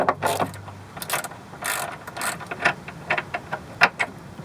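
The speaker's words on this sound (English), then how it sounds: "Then you can get your ratchet on here." A hand ratchet wrench turns a shock absorber bolt with quick, irregular clicking bursts, close and fairly loud, with no talk.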